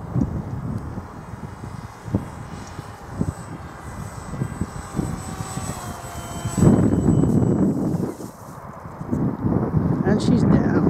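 Bixler RC model airplane coming in to land at night, a faint, steady motor whine with wind buffeting the microphone and bursts of louder rumble, under someone talking.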